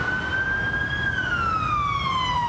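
An ambulance siren wails steadily from a car on the road, its tone gliding slowly down under constant road and engine noise, with no voices.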